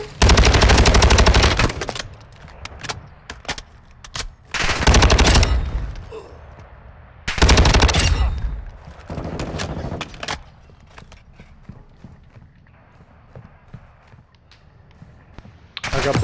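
Sustained automatic gunfire bursts in Call of Duty Modern Warfare II DMZ, loud rapid volleys separated by quieter stretches with footsteps and distant shots, ending with another burst.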